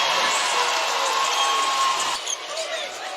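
A basketball arena crowd roars and cheers continuously at a women's game, a loud dense wash of noise that eases slightly near the end, with a commentator's voice mixed in.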